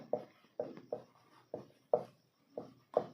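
Pen writing on paper during a Class 10 physics lesson, a run of about eight short scratchy strokes at an uneven pace, close and fairly quiet with no talk over them.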